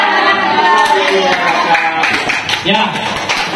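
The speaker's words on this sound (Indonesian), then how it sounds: "tepuk tangan dulu untuk kelompok 2 yang sudah tampil" Classroom applause for a student group that has just finished presenting during a teaching practicum, a dense, steady wash of many hands clapping mixed with chatter from the room.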